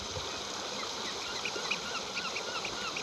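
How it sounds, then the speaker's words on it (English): Small birds with orange beaks and white breasts calling at a harbour-side railway station, Ireland's oldest, giving a few faint, brief chirps over a soft steady background hum. "Beautiful sound of the birds here."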